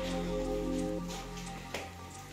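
Rain falling outside a family home, a soft, continuous patter heard from nearby under a low steady hum, with no voices.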